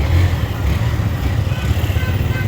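A motorcycle engine hums past in busy rural market-day traffic, a mid-pitched rumble that stays fairly loud and steady throughout.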